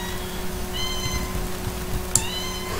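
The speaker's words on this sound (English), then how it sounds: "Kitty meows. She's such a cute cat," A house cat meows close by indoors, a thin, drawn-out call over a steady background hum with a faint click partway through.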